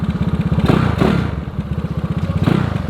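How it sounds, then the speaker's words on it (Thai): A Yamaha Mio motorcycle idles with a steady, fast-pulsing exhaust beat, close and fairly loud, with a couple of brief thumps and clatters over the running engine. "แล้วก็ท่อก็ไม่ได้ดังอะไรมากมาย"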